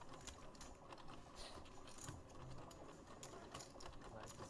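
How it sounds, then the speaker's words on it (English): An automatic card shuffler whirs and clatters steadily at a high-stakes poker final table, a faint continuous mechanical rattle with quiet background murmur. "Card shuffler."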